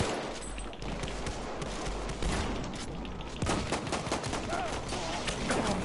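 Video game gunfire: steady, dense rattling shots and noisy combat that keep going the whole time, close and fairly loud.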